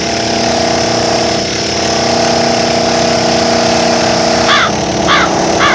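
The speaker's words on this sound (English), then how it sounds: "I'd really like to know why he's drilling holes in my castle." Power drill in the Black Mirror 3 video game boring holes into stone castle walls, a steady loud grinding drone that runs throughout, shifting pitch near the end as a few short chirps break through.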